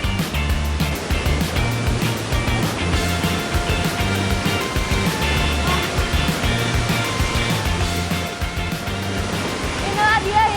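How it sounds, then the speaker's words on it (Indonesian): Rushing waterfall inside a cave, a strong steady roar of heavily flowing water filling the space, continuous and loud throughout. "air terjun dalam goa ini mempunyai debit yang cukup deras"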